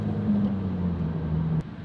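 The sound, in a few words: 2017 Ford Focus RS engine accelerating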